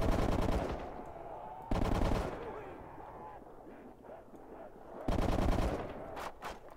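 An M60 machine gun in a World at War custom zombies map, firing in loud sustained bursts that stop and restart, with quieter game sounds and a voice in between.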